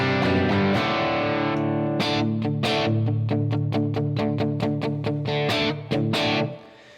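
Electric guitar through a Blackstar AMPED 1 power pedal on its British EL84 setting with gain raised, playing sustained overdriven chords and then a run of sharp, rhythmic stabs, loud and close with no talking.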